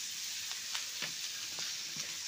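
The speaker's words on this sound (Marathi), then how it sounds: "आणि तव्यावरती कांदा पण भरपूर आता परतून घ्यायचं काम चाललेलं आहे" Onion and dried fish fry on an iron griddle with a soft, steady sizzle, broken by light, regular scrapes of a spatula turning the mixture.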